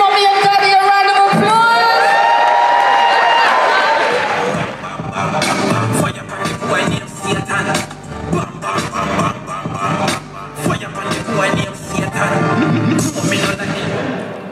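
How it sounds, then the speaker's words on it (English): Applause and cheering from the audience at a UK gospel awards ceremony break out after a stretch of music, a dense, steady crowd roar with scattered whoops filling the hall. "let's give her another round of applause"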